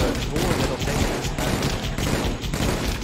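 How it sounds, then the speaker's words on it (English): Machine gun firing in the VR shooter Pavlov VR, a rapid sustained burst of loud, close automatic fire with steady rhythm from start to finish. "That's the machine gun!"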